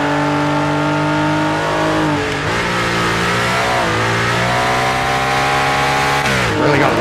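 Loud race car engine in the racing video game Project Motor Racing at Sebring, revving hard and continuously as it rises and falls through the gears, with its pitch sliding between shifts and no voices over it.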